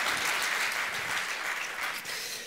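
Audience applause fills a panel discussion on European energy policy, a steady, dense wash of clapping from a seated crowd lasting a few seconds and fading slightly at the end.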